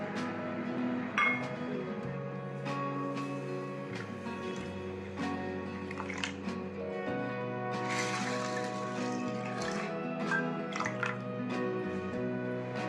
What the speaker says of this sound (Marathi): प्रथम आपण भगर व साबुदाणा पाण्याने स्वच्छ धुवून घेऊ.